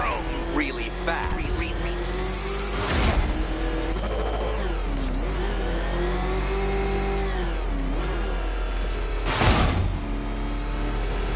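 Batmobile engine in Batman Arkham Knight revving and roaring steadily at close range, swelling in surges, with a voice speaking over it at times.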